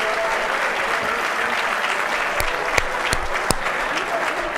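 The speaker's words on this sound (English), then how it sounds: "One more time, round of applause for our 2024" Sustained applause from a ceremony audience at a 2024 athletics hall of fame event, steady and dense throughout with a few sharper claps standing out near the end.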